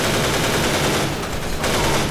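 Gunfire in a Half-Life 2 mod video game, a dense, continuous burst of loud shots filling the whole moment with little pause, no talk over it.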